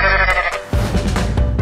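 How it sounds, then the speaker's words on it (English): Goat bleating, a short loud tonal call ending abruptly, followed by a brief burst of noisy rustling. "goat,"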